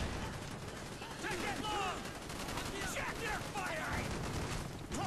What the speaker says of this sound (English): I just shot Woods, I'm pretty sure. I killed a guy, but I shot Woods as well.